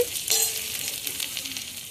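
Chopped onions and two bay leaves sizzle in hot oil for an elephant foot yam fish curry, a steady close frying hiss with a brief sharper crackle as they hit the pan.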